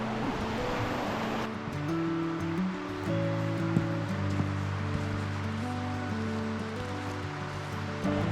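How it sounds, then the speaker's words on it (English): Kootenai Creek flowing along a hiking trail gives a steady broadband rush of water, constant and moderately near, with a low droning hum underneath. "We have caught back up with the creek."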